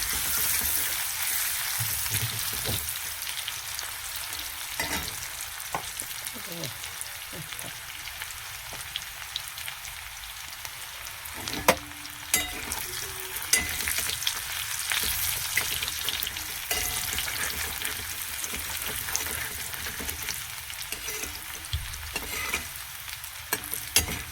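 Chopped onion sizzles and fries in a pan in a home kitchen, a steady crackling hiss running throughout with occasional stirring scrapes and sharper pops, close and continuous with no talking.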